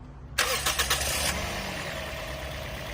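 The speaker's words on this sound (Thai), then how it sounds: "ก็เดี๋ยวเรามาฟังเสียงเครื่องนะครับ" The engine of a 2012 Toyota Vios 1.5 E cranks briefly, then catches and settles into a steady, quiet idle, heard close up from under the hood.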